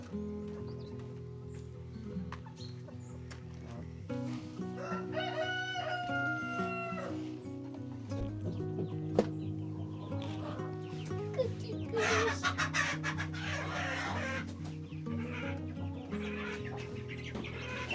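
Several roosters crow repeatedly nearby in a Georgian village, with hens clucking and other poultry calling in a busy, continuous barnyard chorus.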